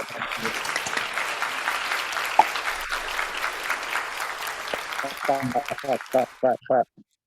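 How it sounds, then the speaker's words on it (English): Sustained clapping from a group after an online presentation, heard as a continuous bright wash that thins into a few last separate claps before stopping. "Let's give Mark a big round of applause."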